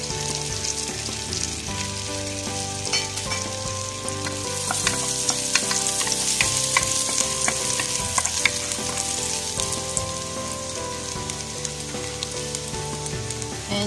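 Garlic sizzles in hot melted fat in a pan for a creamy chicken macaroni sopas, a continuous loud frying crackle with stirring scrapes throughout, no voices.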